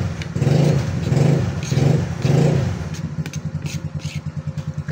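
A motorcycle exhaust revs up four times in a row, each rev rising and falling, then settles into a steady, chugging idle.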